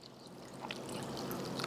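Tap water pours into a Barrier FIT water filter pitcher in a steady, close splashing stream that gradually grows fuller and louder.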